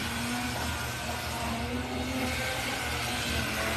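A rebuilt toy train switcher engine runs fast, a faint steady electric whir and hum that continues evenly throughout, close by and without talk.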